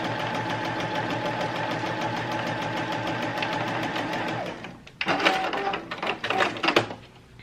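A sewing machine stitches along the outer edge of fabric for a kids' dress, running in a steady, even whir for several seconds, then stopping, followed by brief clattering handling sounds.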